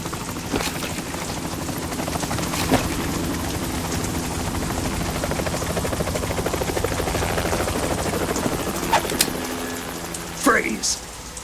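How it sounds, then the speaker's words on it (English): Helicopter in the video game Metal Gear Solid 2, a steady loud rotor drone running throughout, overlaid with rain-like hiss and brief game voice effects. "You will be on the helicopter out of here now"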